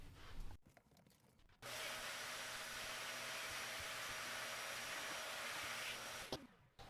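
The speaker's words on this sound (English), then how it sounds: "I'm just going to vacuum that piece off here." A vacuum cleaner roars steadily for about five seconds, cleaning a part of a Miller D-30 granite stone grain mill, switching on abruptly after some light handling noises and cutting off near the end.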